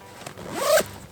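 A Helikon-Tex Alien bag's flap is zipped closed in one quick, close pull, a rising zipper rasp lasting under a second against a quiet background.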